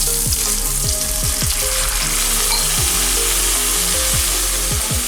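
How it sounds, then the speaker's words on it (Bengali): Rice fries in hot ghee for egg biryani, a loud, close, continuous sizzle with repeated scraping stir strokes from a spoon against the pan, and no voices. "প্রথমে আমি চালটা খুব ভালো করে ঘির মধ্যে ভেজে নেব"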